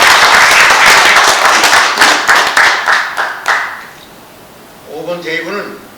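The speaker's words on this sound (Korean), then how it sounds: "감사 박수 드립니다. 박수 부탁드립니다." Audience applause at a formal Korean banquet honoring retired army generals, a loud burst of clapping that fades after a few seconds, followed by someone speaking.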